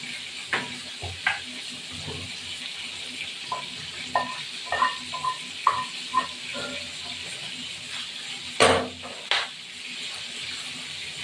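Young jackfruit fries in oil in a pan while being stirred. A steady low sizzle runs under a string of scraping and clinking stir strokes, and one louder clatter comes late in the sequence. No one speaks.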